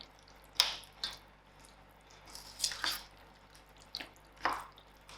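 Fruit cake mixture with dessert cream folded together in a bowl, a handful of separate wet squishing strokes spaced a second or so apart, close and quiet.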